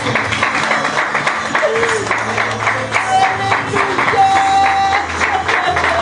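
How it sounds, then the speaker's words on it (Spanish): Scattered clapping and applause from a church congregation, mixed with voices and background music. "Dale un aplauso al Señor."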